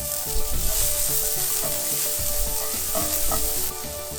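Onions dropped into hot oil with browned cumin seeds and curry leaves, a loud, dense sizzle with spoon stirring and scraping against the pan, steady and close throughout.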